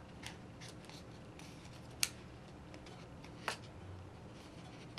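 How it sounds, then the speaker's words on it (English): Scissors make a few sparse, faint snips while cutting paper for a handmade Christmas card, with one sharper cut standing out over low background noise. "I'm just gonna cut it down a little bit more."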